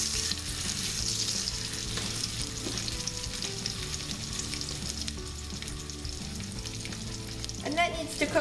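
A slice of bologna fries in a hot pan, giving a steady, close, dense sizzle that keeps going without pause. A few light clinks and scrapes come near the end. No one speaks.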